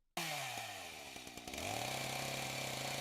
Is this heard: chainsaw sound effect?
yes